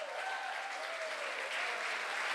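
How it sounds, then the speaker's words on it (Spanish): A church congregation applauds during a missionary worship service in San Rafael, Antioquia, giving steady, dense clapping that sounds moderately distant and continues without a break. "Denle un aplauso al Señor."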